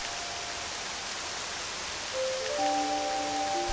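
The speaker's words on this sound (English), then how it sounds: "Rain." Steady rain falls in the video game Octopath Traveler II, a soft even hiss throughout, joined partway by faint sustained musical tones.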